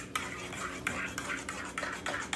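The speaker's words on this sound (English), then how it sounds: "I use the spoon over here." A spoon stirring espresso in a cup, giving repeated light scraping clinks at an uneven rhythm, close and fairly quiet, with faint talk nearby.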